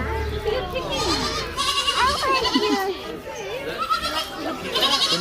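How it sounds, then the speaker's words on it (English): Goats bleat repeatedly at a farm in Devon, with several wavering calls close by, mixed with children's voices and family chatter throughout. "He looks like a hungry goat."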